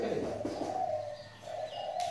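Steady, soft coos come from a spotted dove, a low repeated call rising and falling in two phrases, close by and clear with no talk.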